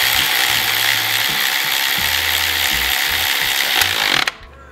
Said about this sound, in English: I've got a 2-inch extension on a deep 14-millimeter socket.